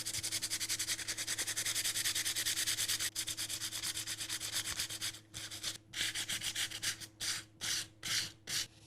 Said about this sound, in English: I'm just taking a piece of 400 grit sandpaper and I'm going to distress this bunny in different